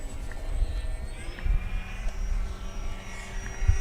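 A radio-controlled model airplane, an FMS Ranger or FairRC Blue Jay, flies at an RC field. Its propeller whine drifts and shifts pitch at mid distance over wind rumble and handling noise.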